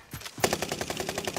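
Rapid automatic gunfire from Call of Duty: Warzone, a short sustained burst of evenly spaced shots, close and loud, with no talk over it.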